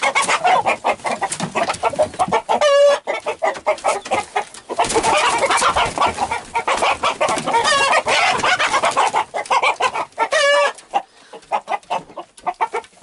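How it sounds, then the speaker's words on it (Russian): A rooster clucks steadily and close, with busy chicken chatter throughout and two short, sharp crowing calls breaking through, one near the start and one near the end. "И кукареку."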